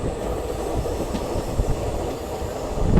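An ICF-coach passenger train runs on rails between Bengaluru and Mysuru, a steady loud rumble of wheels and carriage with faint rhythmic clatter, heard up close from on board.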